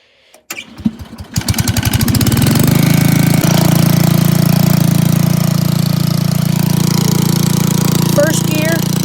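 A tractor engine with a faulty carburetor cranks and catches, then settles into a loud, close, steady but slightly rough idle that carries on without a break.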